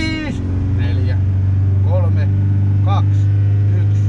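A rally car engine revs repeatedly before a stage start in Lievestuore, a steady loud drone with rising rev bursts, under the constant chatter of a voice in Finnish.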